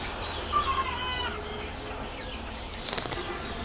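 Chickens on a poultry farm of about 3,000 birds cluck and murmur at a moderate distance, with a louder squawk and a flutter of wings near the end.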